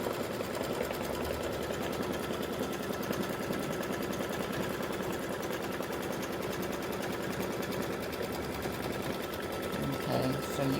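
An embroidery machine stitches fabric for a mug rug with a continuous, rapid mechanical chatter at an even pace, close by, while someone talks over it.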